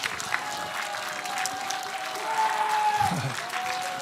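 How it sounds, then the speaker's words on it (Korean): An audience applauds steadily throughout to welcome a guest onto the stage at a Korean gathering, a dense continuous clatter of many hands with a faint tone and a brief low thump near the end. "앞으로 잠깐 모시도록 박수하겠습니다."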